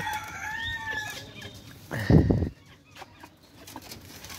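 A large naked-neck rooster crows nearby, its drawn-out call rising and falling before a louder, harsher burst, followed by softer clucks and faint background noise.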